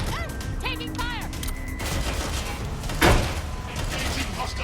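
Gunfire in a Watch Dogs Legion firefight, a dense rattle of shots with one sharp louder crack, mixed with game voices shouting and mechanical clanks.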